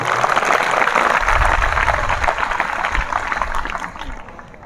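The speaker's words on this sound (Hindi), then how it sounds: "इन सभी वैज्ञानिकों के लिए एक बार पुनः जोरदार ताली।" An audience applauds the ISRO scientists behind the Chandrayaan-3 moon mission: a broad, loud wash of clapping that swells early, then gradually thins and fades toward the end.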